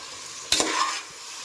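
Onions sautéing in a pan for egg biryani give a single short burst of sizzling and stirring, loud for about half a second and then easing back to a quiet background.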